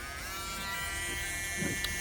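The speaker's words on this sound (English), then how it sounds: "Let's use a Dremel. Makes it a lot faster" A Dremel rotary tool buzzes steadily and faintly as it scrapes a DS Lite bottom screen, a thin constant motor whine with a few small scraping ticks near the end.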